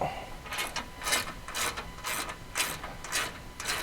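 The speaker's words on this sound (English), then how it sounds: "So we're gonna take a 15mm socket. We're going to pull both these front lower bolts out." A ratchet wrench with a 15mm socket clicks in repeated bursts while backing out the front lower bumper bolts on a RZR Pro XP4 off-road side-by-side, roughly eight quick ratcheting strokes, close and fairly loud.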